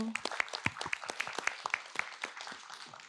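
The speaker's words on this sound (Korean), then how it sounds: "박수 한번 해주십시오." A small audience at a Buddhist lecture gives a short round of applause, distinct individual claps rising and thinning out over about three seconds, moderately quiet.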